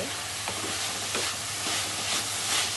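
Grated coconut and sugar stirred in a pan as they dry out for ladoo, a continuous close sizzle with soft, regular scraping strokes.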